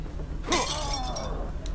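Glass shatters in the horror game The Evil Within, a single loud crash with ringing shards and tinkling fragments that fade out over a low rumbling background.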